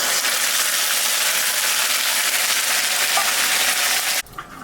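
Crushed garlic with a ground paste of dried chilli, ginger and cumin fries in hot oil in a home kitchen. The hiss is a loud, steady sizzle that cuts off abruptly near the end, with no talking.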